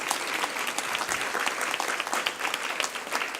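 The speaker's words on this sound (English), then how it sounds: "Please give her a big round of applause." Audience at the Friends of LA Law Library 2017 gala breaks into steady, dense applause, a continuous field of claps filling the room at a moderate level with no voices rising above it.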